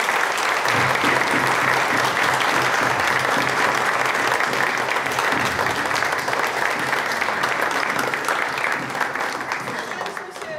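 Steady audience applause at an art exhibition opening, dense and continuous throughout, fading slightly near the end.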